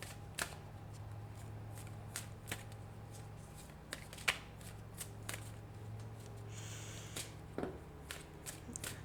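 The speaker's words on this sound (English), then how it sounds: "My little hands are having a very hard time shuffling them in this manner" Repeated crisp riffling bursts of large tarot cards being shuffled, irregular and close, with quiet pauses between each pass.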